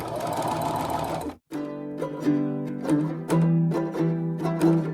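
A sewing machine stitches a seam up close, first in a fast continuous whir, then after a short pause in a series of quick bursts of stitching.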